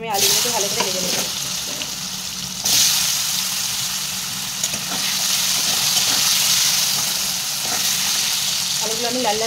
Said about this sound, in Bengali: প্রথমে আমি আলুগুলোকে ভালো করে ভেজে নেব।